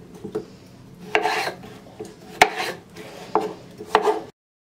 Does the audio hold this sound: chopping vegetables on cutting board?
yes